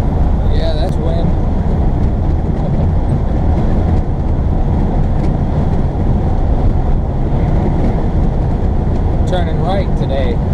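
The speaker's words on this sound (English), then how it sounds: "Yeah, that's wind." A loud, constant wind roar buffets an RV cruising on an interstate between Nebraska and South Dakota, a dense rumbling wash with no let-up, heard from inside the cab.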